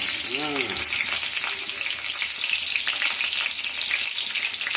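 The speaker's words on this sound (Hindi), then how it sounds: "लागथे कि हमारे तेल गरम हो गया ना। अब मैं मिर्चला ऐसे झपा देते।" Green chillies dropped into hot oil in a home kitchen, cooking for a ridge gourd and potato curry: a loud, steady crackling sizzle that fills the whole stretch, with a brief stirring scrape early on and no talk.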